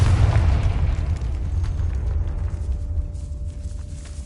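A Confringo blasting spell explodes in a decaying catacomb in Hogwarts Legacy, a loud deep boom with a rumbling tail that rolls on for several seconds.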